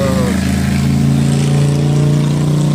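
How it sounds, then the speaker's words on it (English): A motorcycle engine rumbles steadily close by with a low droning tone, its pitch holding and shifting slightly as it goes past. "That motorcycle didn't help!"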